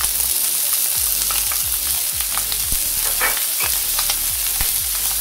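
Spam and peas sizzle and fry steadily in a pan for spam fried rice, with a dense continuous crackle broken by repeated scraping stirs of a utensil against the pan.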